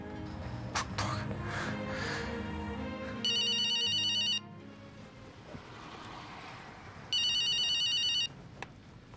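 A telephone rings for an incoming call in two loud electronic bursts of rapid trilling, each lasting about a second, separated by a few seconds of background music and ambience.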